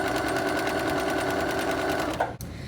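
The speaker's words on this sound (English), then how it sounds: "I'm going to continue sewing down the length, the short length of my fabric." A sewing machine stitches a straight seam along fabric for a pillow, running in a steady, fast mechanical rattle up close before it stops abruptly near the end with a small clunk.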